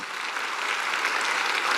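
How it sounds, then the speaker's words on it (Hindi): Loud, sustained applause from an audience honouring a teacher, a dense steady crackle of many clapping hands filling the whole moment with no voices on top. "मैं चाहूंगा इनके लिए एक जोरदार तालियां।"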